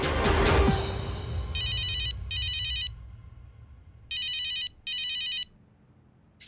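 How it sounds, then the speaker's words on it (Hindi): A phone ringtone sounds in two bursts, each a pair of quick electronic trills, clear and fairly close over a quiet room. "सही का फोन है।"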